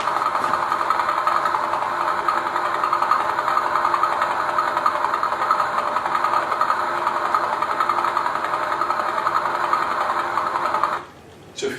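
Radio emission from a newborn pulsar, turned into audio, forms a steady, dense buzz like a fast mechanical whir that holds for about eleven seconds, then cuts off abruptly.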